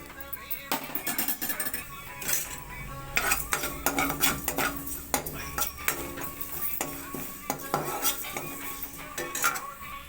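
Spices being dry-roasted in a pan for tamarind pulihora are stirred with a metal spoon, giving steady scraping, clinking strokes against the pan throughout, close and fairly loud, with no talk.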